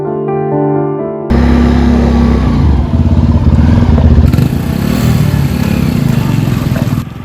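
A motorcycle labors along a muddy village road in Kondai, Mulugu district, its engine a loud, steady rumble that starts abruptly after a short stretch of tonal music and drones on without talk.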